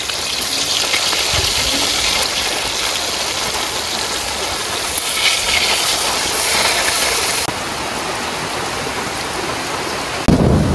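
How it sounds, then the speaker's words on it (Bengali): Pointed gourd (potol) slices frying in a pan, a loud continuous sizzling hiss that fills the whole clip with shifting intensity and a sudden change near the end, no voices. "পটল দ্বিতীয় খোলা হয়ে গেছে ভাজা"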